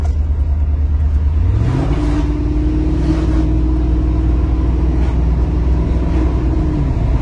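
A car that had caught fire and been repaired revs steadily, and its engine note steps up clearly as it shifts gear, a loud, close, continuous drone with no voices.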